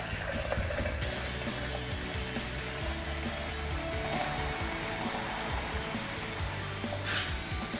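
Boiled water pours steadily from a heavy container into a pot for leek soup, a continuous close liquid rush lasting several seconds with a brief splash near the end and no talking.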